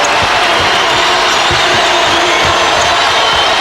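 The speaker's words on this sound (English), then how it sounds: "KU crowd trying to bring this ball club to life" The Kansas home crowd at a Texas–Kansas college basketball game roars loudly and continuously, a dense wall of noise with faint thuds of a bouncing ball underneath.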